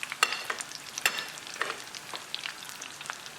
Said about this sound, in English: 375 Fahrenheit, deep frying the chicken breast.